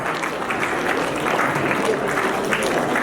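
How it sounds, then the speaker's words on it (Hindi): Dense, steady applause from a crowd welcoming a guest at a Mahashivratri celebration in Prabhu Uphar Bhawan, Mehem; continuous clapping with no gaps and no talking. "सभी ब्राह्मण कुलभूषण जोरदार तालियों से दीदी का बहुत बहुत स्वागत"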